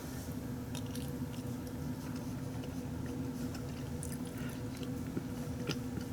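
Chicken and rice with black beans is eaten close up, with soft wet chewing and a few faint crunchy bites over a low steady hum. The sounds are quiet and no one speaks.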